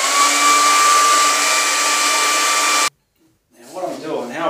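A hair dryer blowing steadily over wet acrylic paint on a moonlit sky painting, a loud, even whooshing drone that cuts off abruptly, followed by a moment of near silence and then a person starting to speak.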